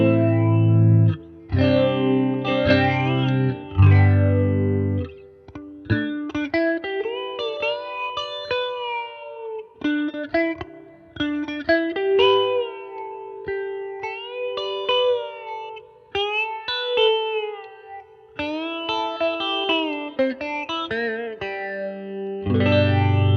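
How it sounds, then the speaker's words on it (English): A Catalinbread Many Worlds phaser pedal set to high depth colours a guitar, its sweeping swish running through loud, continuous chords and single notes for the whole stretch, with no talking. "As I increase the depth, that's where you can hear the swish"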